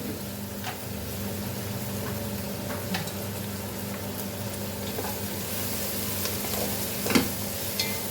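Cashew nuts fry in a pan for Goan coconut rice over a constant soft sizzle, with occasional stirring clicks and one louder scrape near the end, no speech.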